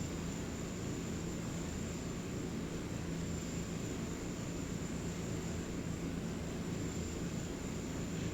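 A Cessna 208B Super Cargo Master turboprop in the X-Plane 11 flight simulator drones with a steady, faint, even engine hum, heard alone and unbroken throughout, set in Alaskan cargo operations.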